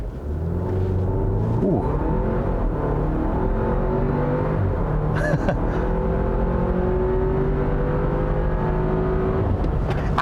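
A 2021 Audi Q5 45 TFSI with a dual-clutch transmission, in sport mode, is floored from a standstill, its engine rumbling loud and steady as it climbs through gears with brief shift dips; a voice briefly exclaims once.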